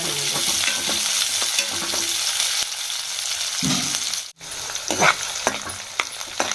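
Curry leaves and onion sizzling in hot oil in a pan while being stirred: a loud, continuous crackling hiss broken by scraping strokes of a spoon and a brief dropout, close up, with no one speaking.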